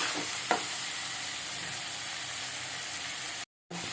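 A ladle stirs eggplant and tomato curry in a hot pan, giving a steady sizzle throughout with a couple of brief scraping knocks near the start and a short dropout near the end.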